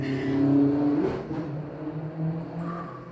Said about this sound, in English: Oh, cars are mad loud.